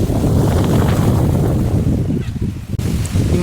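Strong wind blowing across a maize field, a loud, roaring gusty rush buffeting the microphone throughout with no pauses.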